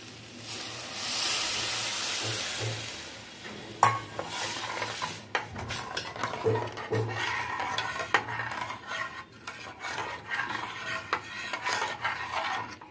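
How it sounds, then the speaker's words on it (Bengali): Lentil soaking water is poured onto frying masoor lentils for a carrot masoor daal, giving a steady hiss and sizzle followed by stirring and scraping against the pot. "আমি এবার এখানে এই ডালটা যে রেখেছিলাম সেই জলটা দিয়ে দিচ্ছি।"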